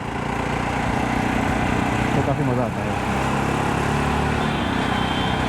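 A Jawa Perak motorcycle's engine runs steadily and loud with a dense, throbbing mid-range rumble, while someone talks over it.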